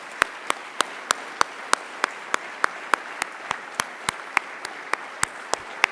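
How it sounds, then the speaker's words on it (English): Sparse applause at a health-organisation anniversary celebration, heard as sharp individual claps at a steady, even pace over a quiet room rather than a full crowd roar. "Let's give all of our sponsors a round of applause"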